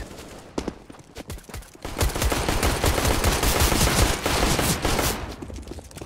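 Gunfire in the video game Counter-Strike: Global Offensive during a competitive match, a few sharp shots and then a dense, sustained barrage of rapid automatic fire, loud and close, with no talk.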